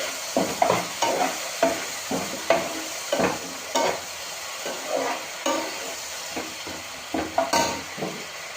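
Ginger, garlic and red and green chili paste frying in a hot pan for a small potato dum, with a steady sizzle and a regular rhythm of spatula stirring and scraping, close and fairly loud.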